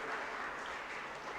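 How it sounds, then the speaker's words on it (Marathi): An audience at a lecture-series event claps to welcome a guest, producing a brief, steady burst of applause from a crowd. "सर्वांनी जोरात टाळ्या वाजवून त्यांचं या ठिकाणी स्वागत करायचं आहे"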